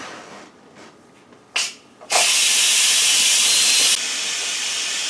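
A pressure cooker that has just finished cooking potatoes lets out a brief puff, then a loud, sustained rush of hissing steam that eases slightly near the end; no voices.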